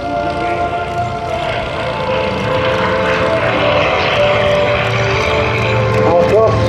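Propeller engines of a North American B-25 Mitchell bomber drone loudly and steadily at the Air Legend 2021 air show, a continuous rumbling roar with someone talking over it throughout.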